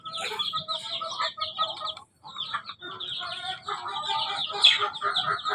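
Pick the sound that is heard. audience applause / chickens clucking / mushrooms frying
chickens clucking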